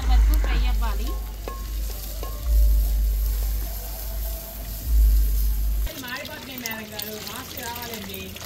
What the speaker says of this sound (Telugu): ఈ ఆనియన్స్ గోల్డెన్ బ్రౌన్ కలర్ వరకు ఫ్రై అవ్వాలి